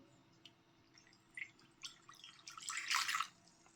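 Water poured over Sichuan peppercorns coated in flour to rinse them, a faint trickle and scattered drips building to a louder splashing stream, close by with no talking.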